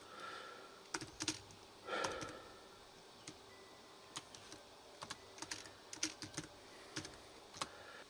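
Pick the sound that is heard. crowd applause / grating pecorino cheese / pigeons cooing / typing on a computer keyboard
typing on a computer keyboard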